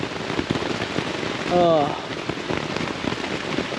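Steady rain patters on a surface along the Appalachian Trail, a dense continuous hiss with a brief voice partway through.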